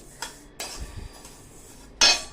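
Niger seeds roasting in a kadhai over a low flame are stirred with a utensil, producing a few sharp metallic clinks and scrapes against the pan with quiet gaps between them.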